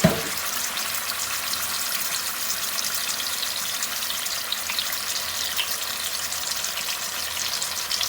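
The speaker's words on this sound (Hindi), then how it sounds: "ये पैन में मैंने घी गरम करना रख दिया है और अब इसके अंदर हम लोग ये पीसेस को डाल देंगे।" Chicken leg pieces fry in hot ghee in a pan, making a constant dense hiss and sizzle that holds steady from start to finish.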